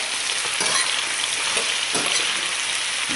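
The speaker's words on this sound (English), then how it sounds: "All the vegetables are being stirred, stir-fried." Vegetables and chicken being stir-fried in a pan give a steady loud sizzle throughout, with a few soft stirring scrapes and no voices.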